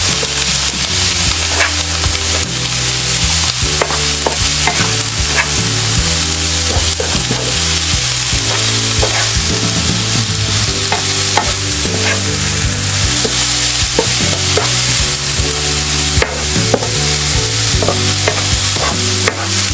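Cabbage stir-fried in a hot pan, giving a loud, steady sizzle throughout with repeated scraping and clattering as it is stirred, and no talking.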